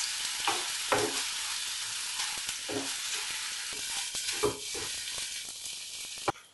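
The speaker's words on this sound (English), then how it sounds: "onion and green chili paste, ginger and garlic paste. Now fry for 4-5 minutes" Onion and green chili paste with ginger-garlic paste fries in a pan, a close steady sizzle broken by repeated scraping stirs and a sharp knock near the end.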